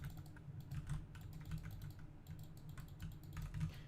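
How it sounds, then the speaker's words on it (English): Fast, steady clatter of keys on a computer keyboard, close and fairly quiet, with a low hum underneath and no talking. "What we typing, bro?"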